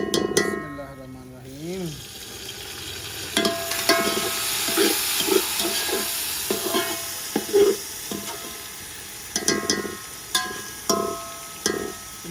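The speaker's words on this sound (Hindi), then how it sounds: "तो अब हम इसमें ऐड करेंगे जी टमाटर" Tomatoes go into browned onions in a pan for a village-style mutton karahi, producing a steady sizzle punctuated by repeated clanks of a spoon against the pan, with a voice speaking briefly at the start.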